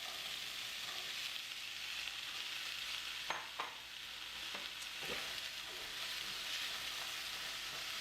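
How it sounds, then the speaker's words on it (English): Potatoes for homemade hash browns frying in hot oil in a pan, a steady close sizzle and crackle throughout with a few louder pops and stirring clatters midway. "That sizzle tells us the oil is ready."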